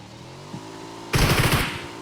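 Automatic gunfire in the shooter game PUBG bursts in suddenly after a low, quiet lead-in, a loud rapid stream of shots that fills the last second without any talking.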